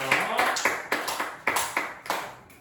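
A church congregation at a youth worship service in Daegu claps together in a steady, loosely rhythmic series of close, bright claps with no talking.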